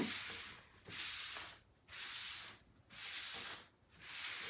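A wood-burned wooden cross being sanded smooth by hand: four long, soft, hissing rubbing strokes in a steady rhythm, close by, with no voices.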